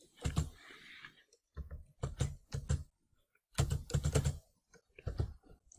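Computer keyboard typing in bursts of rapid key clicks, close and fairly loud, separated by short pauses.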